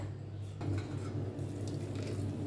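Soft scraping and clinking of a utensil against a metal sieve as blended watermelon juice is strained, with a low steady hum underneath and no talking.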